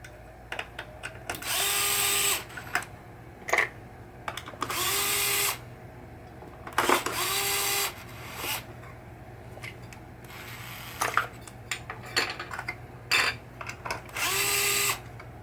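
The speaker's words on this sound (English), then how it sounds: "I'm still getting used to the screwdriver because you hold the button" Several short whirring bursts from an electric screwdriver backing screws out of a pop bumper on a 1972 Williams Honey pinball machine, with small clicks and handling taps between runs, nearby and without speech.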